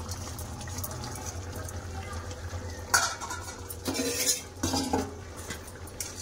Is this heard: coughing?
no